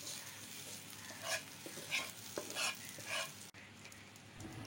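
Rupchanda dried pomfret fish bhuna being stirred in a pan, a soft sizzle under several distinct scraping stirs, fairly quiet, with no voices.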